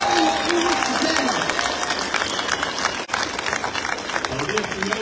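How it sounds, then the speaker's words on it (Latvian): A large outdoor crowd at a protest rally in Riga, Latvia, claps continuously in a dense, loud wash of applause, with voices and cheering mixed in throughout. "Aplausi jums visiem, ka mēs esam šeit kopā!"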